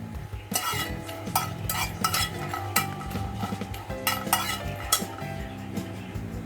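Pieces of rohu fish frying in hot oil in a pan, with steady sizzling under repeated metallic scrapes, clinks and stirring knocks from a utensil, close and continuous.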